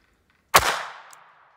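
A single sharp report from a Ruger LCP II .22 LR pistol firing Aguila Super Extra, close and loud, with a short ringing decay and a faint click after.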